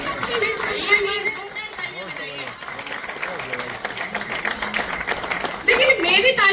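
A crowd at a Women's Day national poetesses' gathering claps steadily for a poet, a dense patter of applause running throughout beneath loud overlapping talk and chatter.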